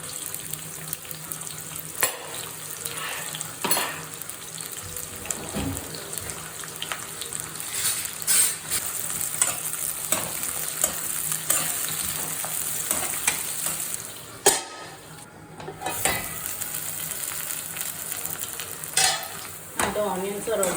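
Sliced onions sizzling in hot oil for a chicken fry, a steady close frying hiss broken by repeated stirring scrapes and clacks of a spoon against the pan.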